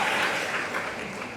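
Applause in a school classroom at MAN 1 Jepara as students clap for a classmate's correct answer, a steady broadband patter of hands throughout, moderately loud and fairly close, with no clear talk over it.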